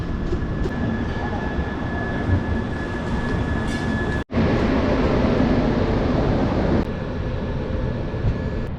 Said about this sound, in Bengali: একদম রাইট টাইমে আমাদের ট্রেন ছেড়ে দিয়েছে শিয়ালদা স্টেশন থেকে।